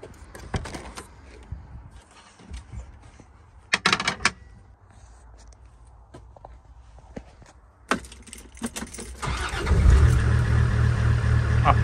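A Land Rover TD5 car after an ECU repair: door clunks, key and window sounds, then the engine cranks and starts, settling into a loud idle at the end.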